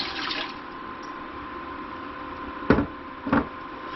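Water pours from a tap into a container to make homemade dish soap from shredded bar soap, a steady running rush with two brief louder splashes near the end.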